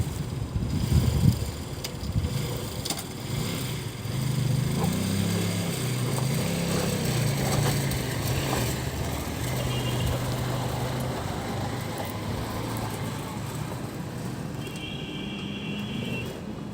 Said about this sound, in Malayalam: മുകളിൽ കേട്ടോ വണ്ടി പോയിക്കൊണ്ടിരിക്കുക